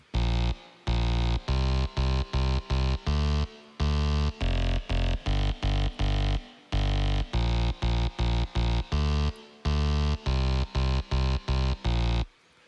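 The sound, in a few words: bass synth loop from Splice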